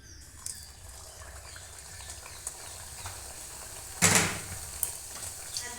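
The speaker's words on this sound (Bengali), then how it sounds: "কড়াইয়ে আমি রেপসিড তেল দিয়েছি এখন আমি ভেজে নেব তেলটা গরম হয়ে গেছে একে একে ভেজে নেব" Stuffed potato kachori frying in hot rapeseed oil in a kadai: a continuous low sizzle with a sudden louder hissing burst partway through as frying intensifies, then settling back.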